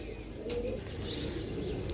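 Soft low cooing of pigeons, faint and continuous, with a few light chirps over a quiet background.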